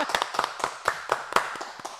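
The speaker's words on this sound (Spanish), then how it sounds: "A las 300 personas, por favor, le damos un fuerte aplauso a Nati." A handful of hands clapping in a steady, fairly quick rhythm for about two seconds, sounding close and somewhat sparse rather than like a large crowd.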